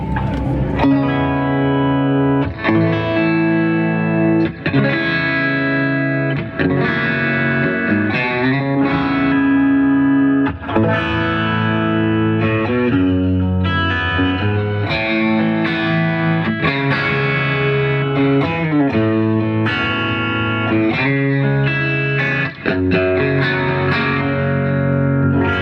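Electric guitar played through a Bad Cat Hot Cat 50 amp on its clean channel in high mode into a 1x12 cabinet, chords and riffs ringing continuously, loud and close with no talking.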